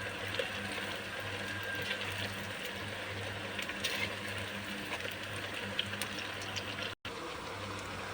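Mak saket snacks fry in hot oil with a steady, even hiss and bubbling crackle that carries on throughout at a constant level, close by.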